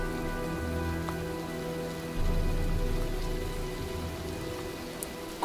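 Steady rain falls during a storm in the Heavy Rain video game, a constant hiss of drops on surfaces with a low rumbling undertone, heard alone at moderate level.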